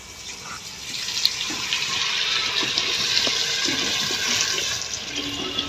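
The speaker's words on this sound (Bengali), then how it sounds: "আমি এখন দিয়ে দিব জল" Water pours steadily into a clay handi of browned, cooked mutton over a wood-fired clay stove, a continuous splashing rush lasting several seconds at close range with no talk.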